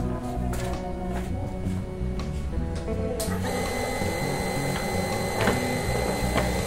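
A running electric water pump whirs steadily while bolts on it are tightened, with close mechanical rattling and tool clicks over the constant motor hum, and no talk.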